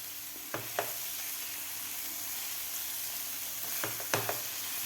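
Mixed vegetables coated in tomato sauce sauté in a pan for masala toast, a soft steady sizzle with a few sharp spatula scrapes and taps against the pan, no voices.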